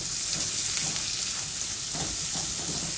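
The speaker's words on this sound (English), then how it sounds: "because it's on hot, I've got to keep stirring it so that my onions don't burn" Onions frying in a hot pan for risotto, stirred continuously to soften without browning; a steady close sizzle with soft scraping stir strokes throughout, no talking.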